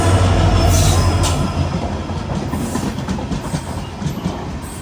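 Garib Rath Express train on the Badarpur to New Haflong route running along the track, with loud continuous rumble, clattering wheels and occasional squeals heard close from on board.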